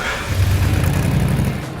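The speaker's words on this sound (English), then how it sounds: "The sound of these engines." A V8 engine on a Mad Max film car, the Gigahorse, revs with a loud, close, rough rumble that holds steady through a brief burst, with no voices.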